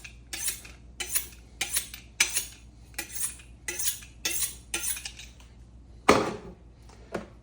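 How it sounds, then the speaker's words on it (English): A steel knife blade is drawn across a sharpener in a regular series of about a dozen bright metallic strokes, close and clear, ending in one louder scrape. "We're going to sharpen our knife blade up a little bit."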